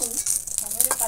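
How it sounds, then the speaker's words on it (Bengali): Bitter shukto leaves being fried briefly in hot oil and stirred, giving a steady close sizzle and hiss with small scraping stir sounds throughout. "শুক্তো পাতাও একটু তেলের মধ্যে দিয়েই নাড়িয়ে দিলে হয়ে যাবে"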